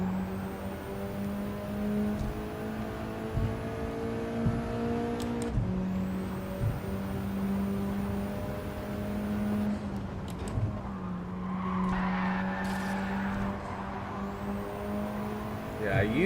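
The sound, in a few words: old Honda F1 car driving in Gran Turismo 7 video game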